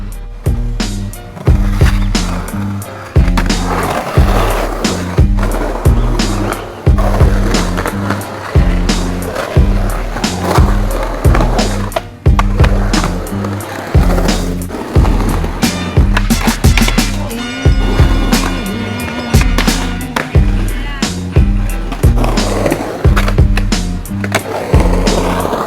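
Skateboard wheels roll and clack over a skatepark surface, with repeated rhythmic thumps and loud rolling noise running steadily and close throughout.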